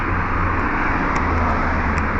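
Traffic runs along a highway beside a residential building, a continuous loud roadway rumble with passing cars blending into one steady wash.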